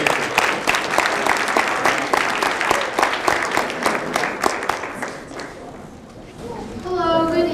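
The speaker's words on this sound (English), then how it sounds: "Can we give another round of applause for our great mentees this year?" Audience applause for mentees at a mentoring awards ceremony, with dense individual claps at the start that thin out and fade, followed by a speaker's voice.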